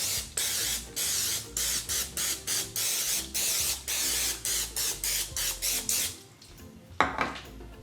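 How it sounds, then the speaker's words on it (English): Cooking spray hisses onto a metal muffin tin in about fifteen short, regular bursts, close and loud, followed by a few faint clinks of the pan. "I will spray it."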